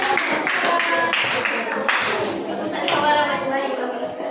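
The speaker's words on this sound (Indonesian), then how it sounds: "Beri tepuk tangan untuk kelompok" Applause from a class acknowledging a group after its presentation: a dense, steady patter of many hands clapping at moderate loudness, with voices mixed in.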